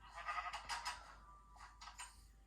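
Sheep bleating in the Minecraft video game, a few faint, short bleats near the start and again just after midway, quiet and alone over a low background.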